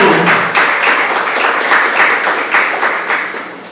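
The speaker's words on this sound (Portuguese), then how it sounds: "Vamos aplaudir o nosso Pai." A church congregation claps together, dense steady applause with a loosely rhythmic pulse, loud and filling the room, fading slightly at the end.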